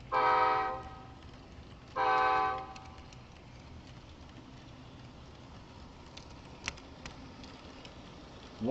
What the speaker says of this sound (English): it's the only tsunami sound locomotive I got that can blow its horn with the prime mover off